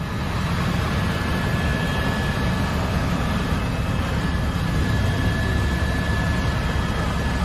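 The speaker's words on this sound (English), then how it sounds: "This helicopter flying really close to the US Bank Tower in Los Angeles" A helicopter flying close to the US Bank Tower in Los Angeles gives a continuous, steady rotor and engine roar at moderate distance, unbroken throughout with no voices.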